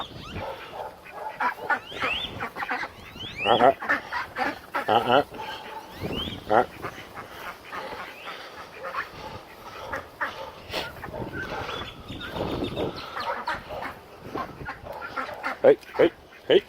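Ducks being herded in a pen give a busy run of quacking and honking calls, fairly close and continuous, mixed with a person's shouting and movement noise.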